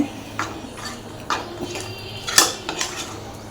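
A spoon stirs paneer keema with kasuri methi in a pan, giving several separate metallic clinks and scrapes against the pan at an uneven rhythm, close and clear.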